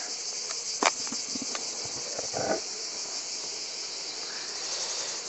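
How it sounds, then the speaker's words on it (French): A steady, dense buzz of honeybees in a hive fills the air close by, continuous and unbroken, with a few soft knocks and rustles early on, during a hive inspection in dry garrigue. "Alors déjà, c'est plein d'abeilles."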